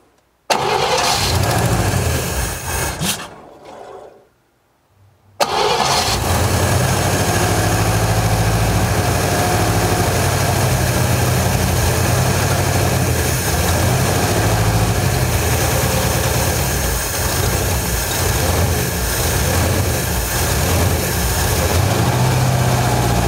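A 1957 Chevy Bel Air engine that had sat for 35 years cranks over briefly, falls quiet for a moment, then fires and runs on at a steady, loud, rough idle for the rest of the clip, with no talking.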